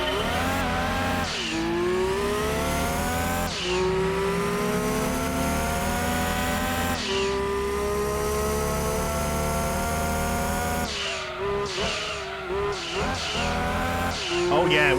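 A race car with racing modifications in the PlayStation game Gran Turismo 2 revs loudly through repeated gear changes, its engine pitch climbing and dropping, with brief tire squeal near the end.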